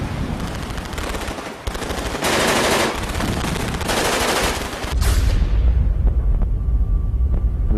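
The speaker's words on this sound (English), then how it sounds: "The machine gun just opened up." Machine gun fire from guns up in the cliffs during the D-Day beach landing, long dense bursts of rapid fire with loud booming blasts, ending in a deep rumbling roar.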